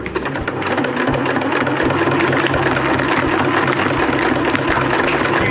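A sewing machine stitches a Dyneema stuff sack with a fast, steady mechanical whir and rhythmic needle clatter, loud and close throughout, with no voices.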